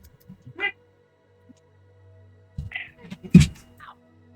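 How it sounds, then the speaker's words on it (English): A cat gives a few short meows and a louder drawn-out yowl, scattered over a few seconds in a quiet room. "There's a kitty."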